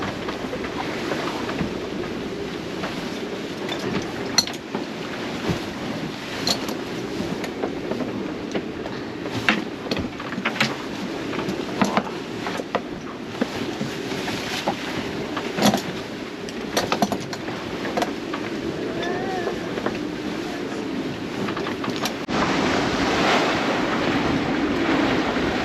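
Ocean waves wash steadily around a solo sailboat on open water, with wind roaring continuously across the deck in a broad, close wash and a few sharper splashes and knocks breaking through.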